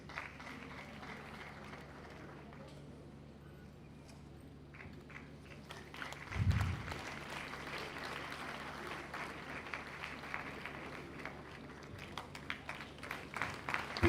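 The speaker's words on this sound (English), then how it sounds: "Please let's give her another round of applause." Steady applause from a crowd, clapping continuing evenly and growing slightly busier partway through.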